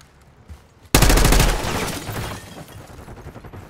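Gunfire erupts in Call of Duty Black Ops 6 on PC, a sudden loud burst of rapid automatic shots after a quiet start, then fading into a rumbling tail.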